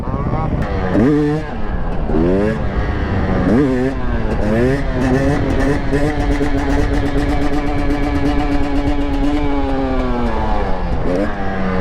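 Two-stroke 300 motorcycle engine revving and buzzing loudly in a busy lot, with rising and falling pitch sweeps as it accelerates, under people talking nearby.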